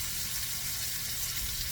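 Thinly sliced veal liver and onions sizzle steadily in a pan for Venetian-style liver and onions, a close, even, continuous frying hiss with no voices over it.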